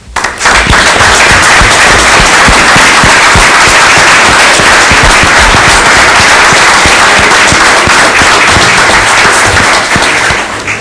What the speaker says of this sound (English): they are all to be applauded one more time